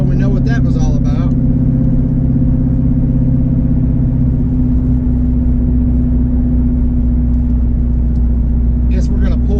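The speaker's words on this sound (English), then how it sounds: "Random misfire detected." The Chinavette car engine idles with a misfire and nitrous surge trouble, a loud, close, steady low rumble with an uneven pulse, while a voice talks over it at the start and end.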